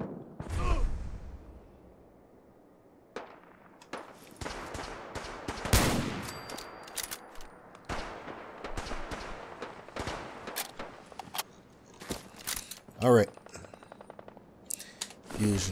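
Bursts of gunfire from Deacon in Fallout 4, scattered single shots and rapid volleys at moderate distance with quiet gaps between them, while a voice talks over the game.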